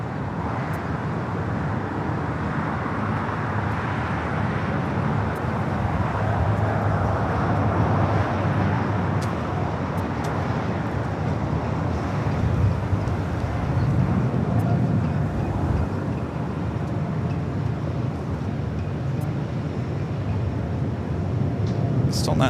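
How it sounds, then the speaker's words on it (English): Singapore Airlines Boeing 777-300ER in Star Alliance livery taking off on runway 24L at LAX, a steady, continuous jet roar heard from a distance for the whole stretch, with a voice talking over it. "We do have Singapore in the Star Alliance livery, the 777-300ER taking off there on 24 left."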